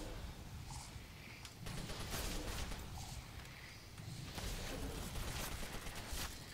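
Rapid Fire Pistol shooting in a Black Ops 2 custom zombies map, quick bursts of fairly faint gunfire repeating in clusters amid game noise.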